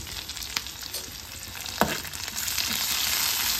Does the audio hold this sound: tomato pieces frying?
yes